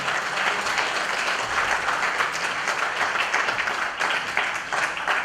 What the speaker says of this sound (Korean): 힘찬 박수로 격려해 주시기 바랍니다